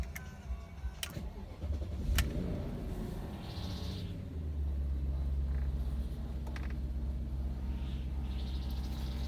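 A 2001 BMW 740iL with 121k miles cranks and fires up, its engine settling into a low, steady idle rumble, with a few clicks and clunks before it catches.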